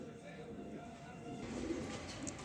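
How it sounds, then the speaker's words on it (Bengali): Racing pigeons cooing softly, low murmuring coos heard faintly and fairly close, with quiet talk in the background. "এখানে 2 পিস কবুতর দিলাম, এই 2 পিস কবুতর রেস করা"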